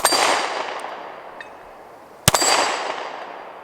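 Shots from a Ruger Max 9 pistol strike a steel gong target, and two sharp metallic clangs ring out about two seconds apart, each loud, close and decaying in a long shimmering tail.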